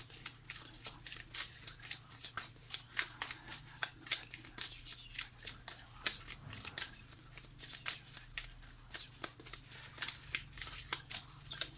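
A deck of tarot cards is shuffled by hand, giving a rapid, steady run of soft riffling flicks that keeps up for several seconds at low volume over a faint background hum.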